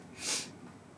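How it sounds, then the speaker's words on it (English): A single short sniff with a runny nose, close up, a quick airy intake through the nose against a quiet background. "I keep sniffing. Apologies if I keep sniffing."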